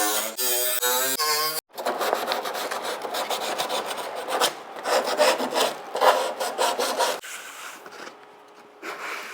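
Repeated rasping strokes of 600-grit sandpaper scuffing the bare metal edges of an aftermarket Honda CRX hood, close and brisk with a quick rhythmic back-and-forth and brief pauses.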